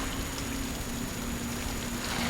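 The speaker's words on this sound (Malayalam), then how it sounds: "മൊത്തം മഴയോ" Steady rainfall in the video game Tomb Raider, dense, even patter of drops on surfaces with no voices over it.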